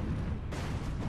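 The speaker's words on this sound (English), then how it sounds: "there's a lot of explosions" Dense, continuous rumbling blasts of bomb explosions in the video game Battlegrounds, loud and overlapping with no pauses between them.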